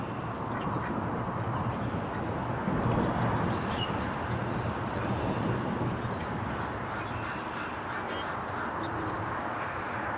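A small line of ducks comes in for pellets outdoors, quacking in a steady, busy chorus over continuous background noise. Individual calls are faint to moderate and no one speaks.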